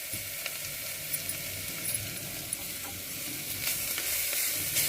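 Grated coconut sizzles in hot oil while being stirred, a steady soft frying hiss with small scraping stirs and faint clicks, close and fairly quiet, with no talking.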